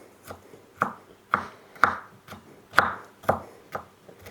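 A knife chops pickles into small chunks on a board, about eight sharp, distinct knocks in an uneven rhythm, close and fairly quiet.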